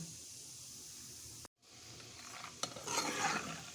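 Peanuts frying in the same hot oil used for bitter gourd, a steady close sizzle with a brief silent gap and stirring noises, the frying growing busier and brighter toward the end.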